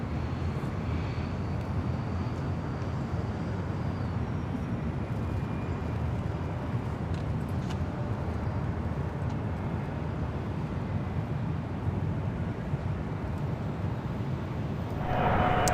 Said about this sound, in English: And a first A380 arrival over our heads.